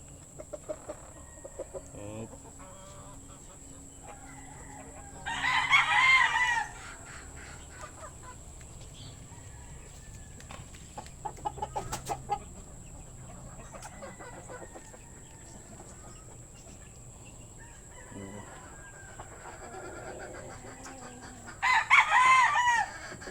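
Darag breeder roosters crow in bursts on a farm, with two loud, clear crows near the start and end and softer clucking and fowl sounds in between.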